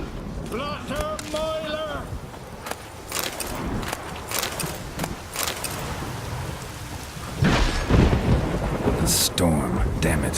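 Thunderstorm with rain in the video game The Witcher 3: sharp thunder cracks and deep rolling rumbles break over a steady wash of rain, with a loud burst near the end.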